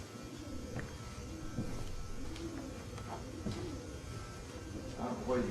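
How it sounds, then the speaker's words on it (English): Pigeon cooing indoors at a boat works building at Snead Island, a few soft repeated coos heard over a steady roomy background hum, with people talking nearby. "No, I think it's a pigeon."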